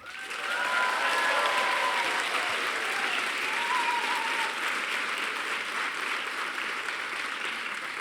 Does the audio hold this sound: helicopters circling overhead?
no